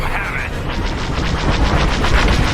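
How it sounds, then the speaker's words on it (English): Rapid laser cannon fire from starfighters in Star Wars Squadrons, a steady pulsing stream of zaps over engine roar and space combat noise, loud and continuous. "Careful, let your lasers recharge."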